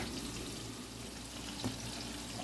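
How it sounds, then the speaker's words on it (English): A steady, faint wash of running water as pasta drains through a straining pot, continuous and unbroken, with one small clink partway through. "I drained the pasta"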